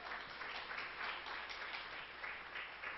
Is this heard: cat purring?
no